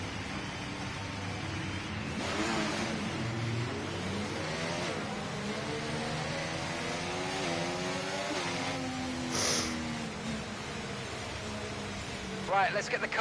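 A Formula 1 car in the F1 24 racing game on the Miami Grand Prix circuit, engine revving up and down through the gears in steady sweeps, with a person talking over it throughout.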